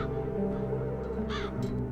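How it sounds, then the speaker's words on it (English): Crows in the fantasy adventure video game The Dark Eye: Chains of Satinav, a couple of harsh caws rising over a steady low ambient drone near the end. "As long as the crows are wreaking havoc, nobody is admitted to the castle."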